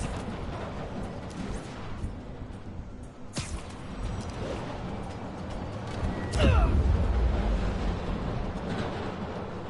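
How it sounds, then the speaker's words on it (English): Train passing in the Spider-Man PS4 video game, a loud continuous mechanical rumble with sharp metallic clanks and a squealing screech that swells into a heavier roar near the end. "Tapping into the train system should help me follow the train's path."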